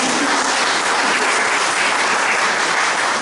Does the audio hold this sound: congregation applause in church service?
yes